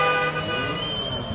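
Car horns honk in a sustained, overlapping blare from vehicles interrupting a political candidate's speech in the Ladik district of Konya, with traffic noise underneath.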